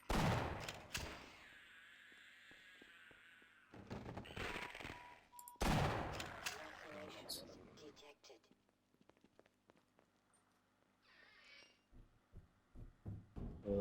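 Rapid turret gunfire from the video game Half-Life: Source comes in loud bursts in the first half, then fades to quieter scattered shots and game ambience.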